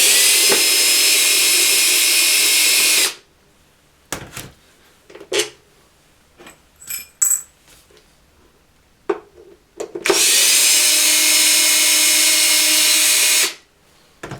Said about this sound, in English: So we'll just take these 4 screws out here.